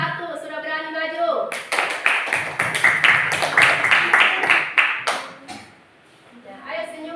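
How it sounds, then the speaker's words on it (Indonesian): A group of children in a classroom clap in quick, uneven applause for the first group, lasting a few seconds before fading, with a teacher's voice speaking before and after. "beri aplaus kelompok 1 sudah berani maju"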